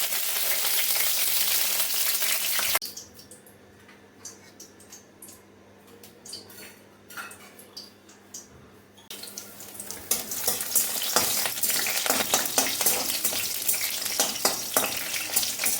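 Garlic cloves and green chillies frying in hot oil in a pan give a loud, continuous sizzle that drops away for several seconds and then surges back strongly, close and without voices.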